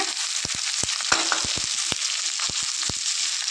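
Chopped onions go into hot oil with a mustard seed, urad dal and chana dal tempering and fry with a loud, continuous sizzle. Sharp pops and crackles break through it at irregular intervals.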